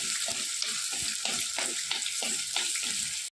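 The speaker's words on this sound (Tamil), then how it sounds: "காஞ்ச மிளகா மூணு போட்டுக்கோங்க இது எல்லாமே வறுத்துட்டு கீரையில் எடுத்து போட்டுற வேண்டியதுதான்" Dried red chillies sizzle in hot oil in a pan while a gongura gravy tempering is made, with a steady crackling hiss and a regular, rhythmic scrape of stirring throughout.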